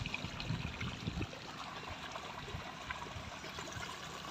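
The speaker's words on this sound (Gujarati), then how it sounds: "આ જો આ પાણી જાય છે." Water running through a channel carrying fertilizer, a steady soft trickle and stream that continues throughout at low level, with faint background noise.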